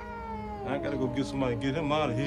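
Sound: feral cats meowing

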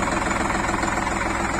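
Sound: Indo Farm 3048 tractor engine idling

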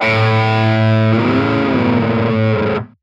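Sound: pitch harmony effect on Line 6 Catalyst amp

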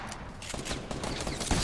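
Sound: gunfire in the video game Fortnite

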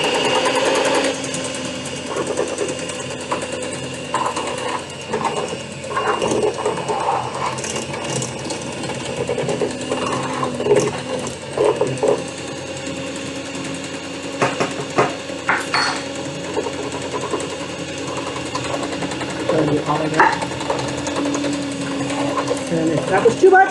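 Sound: electric mixer stirring mashed potatoes

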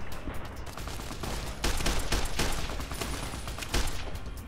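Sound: gunfire in video game Fallout: New Vegas

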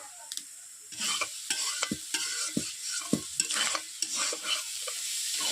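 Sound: pond snails being stirred and fried in oil in a wok

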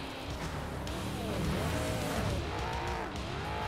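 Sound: car driving in the video game Carmageddon: Reincarnation

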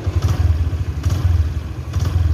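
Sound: Honda Mega Pro motorcycle engine idling, exhaust sound

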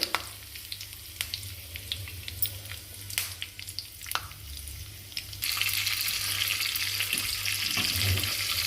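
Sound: curry leaves and cashews sizzling in hot oil

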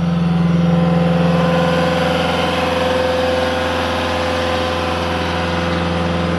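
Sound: Caterpillar 289D compact track loader engine running at full throttle

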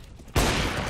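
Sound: M4 rifle gunfire in a video game

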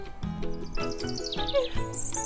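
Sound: birdsong in a cartoon

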